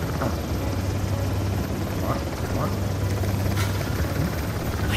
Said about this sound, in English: Try putting our ropes onto the helicopter.